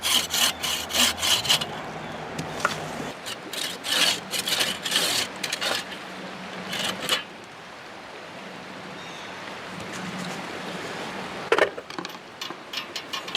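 Ends of wooden stakes for a bushcraft fire reflector are chamfered with a blade, giving close, rapid rasping and scraping strokes in bursts separated by quieter pauses, with no talking.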